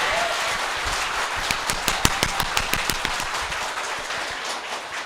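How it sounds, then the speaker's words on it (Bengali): An audience at a motivational talk claps in a short, loud burst of rhythmic, roughly unison hand claps over a background hiss, about a dozen sharp claps lasting around two seconds. "এবার জোরে হাততালি।"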